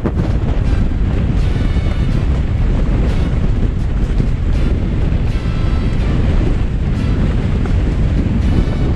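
Strong wind in the Black Mountains buffets the microphone with a loud, continuous low roar and rumble, gusting without pause throughout.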